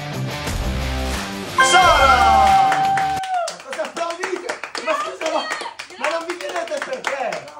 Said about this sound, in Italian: Cosa applaudite?